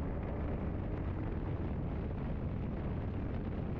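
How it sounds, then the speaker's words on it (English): Strong wind roars against a car as it drives, a dense, continuous low rumble of buffeting air close to the microphone, with no voices. "Dang, that's a lot of wind."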